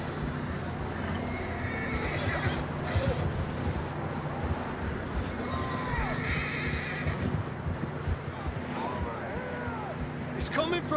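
Horses in the Red Dead Redemption 2 video game neigh and whinny over a steady clip-clop of hooves, with wind noise throughout and voices talking over the action.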